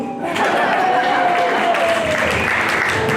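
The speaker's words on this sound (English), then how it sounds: "You can keep clapping." A street show crowd in Hawaii claps along, loud and sustained applause rising after a brief start, with a voice faintly heard beneath it.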